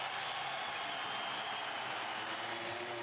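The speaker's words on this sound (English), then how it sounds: "Listen to the crowd. They are very happy." Crowd at the 2024 Spanish MotoGP Grand Prix roaring in a steady, dense wash of cheering and applause, distant and continuous for the whole stretch with no breaks.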